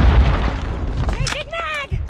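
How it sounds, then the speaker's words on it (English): Video game grenade going off as a loud booming blast within dense combat noise, with shouted voices and radio-like callouts layered over the rumble. "Grenade!"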